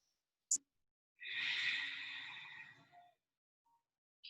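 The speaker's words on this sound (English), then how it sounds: "So first, just focusing back on the inhales and the exhales." A slow, steady breath during a yoga session: a brief sniff, then one long, soft exhale of about two seconds, close and quiet, with near silence around it.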